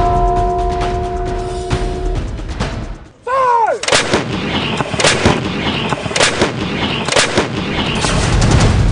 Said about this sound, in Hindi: इसका नाम है M777A हॉवित्जर तोप।